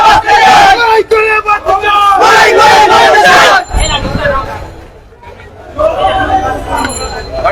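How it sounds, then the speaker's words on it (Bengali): Workers shout slogans together at a street protest in Sylhet city, a loud crowd of chanting voices rising and falling in bursts, with a quieter stretch of murmuring before the chanting swells again. "শ্রমিকরা কিন্তু বিভিন্ন ধরনের স্লোগান দিচ্ছেন"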